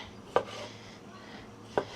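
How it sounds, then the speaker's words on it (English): A knife cuts pitted produce in half on a cutting board in a home kitchen, two faint, sharp chops about a second and a half apart over quiet room noise, no talk. "I'm going to pull the pits off, cut them in half, and throw them in"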